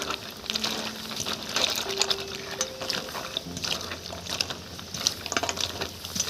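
Cold water poured over soybeans in a bowl to wash them, a steady splashing, trickling wash with sloshing and clinks, close and fairly loud throughout with no talk.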